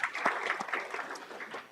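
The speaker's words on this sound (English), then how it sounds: "So let's give them a round of applause." A conference audience at Reactor2013 clapping, a brief burst of scattered hand claps that carries on evenly for under two seconds, moderately faint in a large room.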